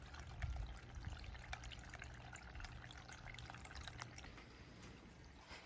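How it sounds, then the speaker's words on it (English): A garden water fountain trickles and splashes softly, a faint, continuous light burble of falling water with small drips, heard alone in a quiet summer garden. "And my lovely water fountain that I listen to."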